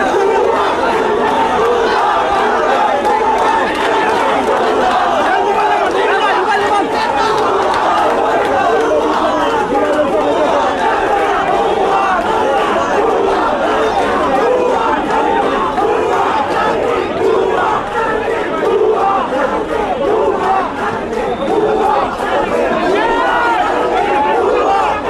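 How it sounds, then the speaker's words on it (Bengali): A large crowd of students chants a rhythmic protest slogan of "fake, fake" at an election campaign speech, with loud, continuous massed voices and shouting that carry through the whole stretch. "তার অপর পাশে কিন্তু শিক্ষার্থী যারা রয়েছে তারা কিন্তু ভুয়া ভুয়া স্লোগান দিচ্ছেন"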